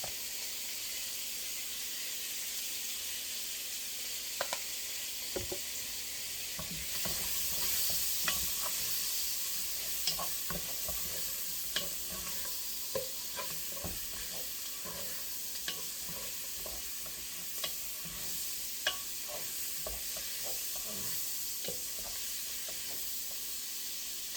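Seasoned meat flavored with cloves powder and Italian seasoning sizzles steadily in a pot while it is stirred, a soft continuous frying hiss broken by faint scrapes and clicks, heard close and alone.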